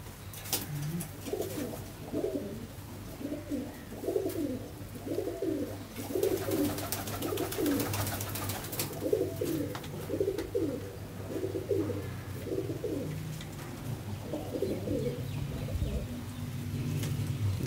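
Racing pigeons coo in repeated soft, rolling phrases close by, a steady series of throaty calls over a low background hum, with occasional handling noises and faint speech.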